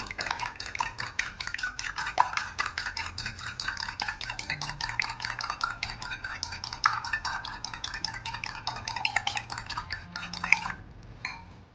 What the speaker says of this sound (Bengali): ডিমগুলোকে ফেটে নিচ্ছি।